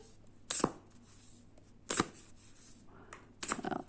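Deck of oracle cards being shuffled by hand, three sharp riffling bursts spaced about a second and a half apart, with quiet rustling in between and no talking.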